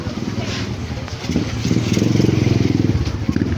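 On a tour of Malapascua Island, a motorcycle engine putters close by with a low, steady rumble that grows louder partway through. People talk over it.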